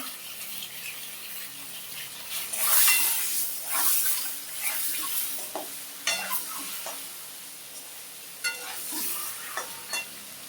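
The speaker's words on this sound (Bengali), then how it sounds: "একটু হলুদ দিয়ে দিলাম তাহলে ডিমগুলো দিয়ে দেবো সুন্দর ভাজা হবে" Eggs frying in hot oil with turmeric in a pan, giving a bright, continuous sizzle with occasional louder spits and scraping strokes as they are stirred close by.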